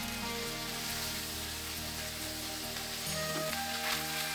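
Cauliflower, carrot, potato and curry leaves sizzle in a hot pan with a steady, close, even hiss that lasts the whole time, without pauses or voices.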